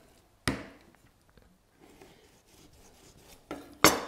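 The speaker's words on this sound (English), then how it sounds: "So just find where it meets and trim it off." A knife trims through a raw chicken joint on a board in a cookery-school butchery class, giving two sharp scraping cuts, one near the start and one at the end, with quiet handling rustle between.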